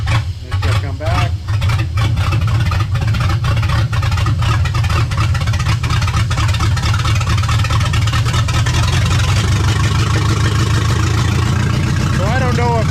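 An LS-swapped 1963 Chevrolet C10 pickup engine idles steadily and loudly with a deep, throbbing low rumble, its idle dipping and recovering, while people talk over it throughout.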